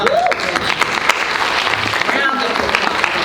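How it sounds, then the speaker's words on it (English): A town hall audience applauds with a sustained patter of many clapping hands, fairly loud and continuous, and a voice briefly speaks over it. "round of applause"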